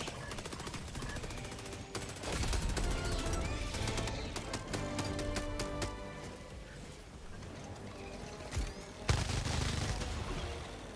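Rapid gunfire in the video game Helldivers 2, bursts of sharp repeated shots and automatic fire with dense clattering impacts and a louder blast near the end, no speech.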